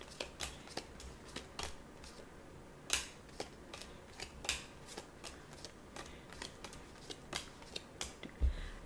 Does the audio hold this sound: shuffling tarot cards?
yes